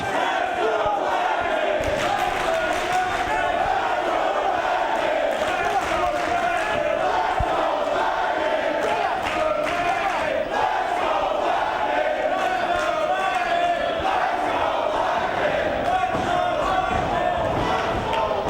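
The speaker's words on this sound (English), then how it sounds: "the fans have just as much endurance as these wrestlers right now to be cheering this loud, this far into the match" A wrestling crowd cheers loudly and steadily throughout a long 2-out-of-3 falls match, a dense continuous roar with sharper shouts and thuds breaking through, while a commentator talks over it.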